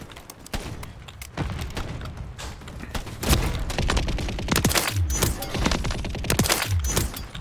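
Rapid bursts of gunfire from a video game weapon crack out in dense, repeated volleys with heavy thumping impacts, loud and close throughout.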